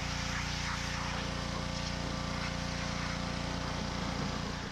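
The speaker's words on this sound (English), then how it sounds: "we're gonna hit it with the pressure washer" Gas pressure washer blasting a car body coated in several layers of old paint during a Crown Victoria body swap, a steady, loud, continuous engine drone with hissing spray, no talk.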